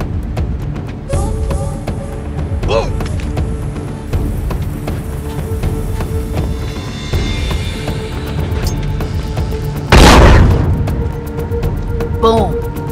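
A bomb going off in the game The Last of Us Factions: one sharp, loud blast near the ten-second mark, standing out over game ambience, footsteps and a steady tonal background, with no speech.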